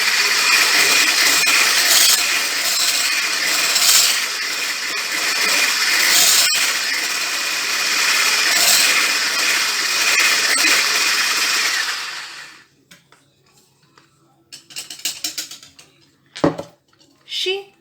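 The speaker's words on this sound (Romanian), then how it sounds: "Amestecăm bine toate ingredientele." Pancake batter for peanut butter and strawberry pancakes being mixed in a small bowl, a steady, loud clatter of a utensil scraping and knocking the bowl for about twelve seconds, then sparse light clinks and taps in near silence.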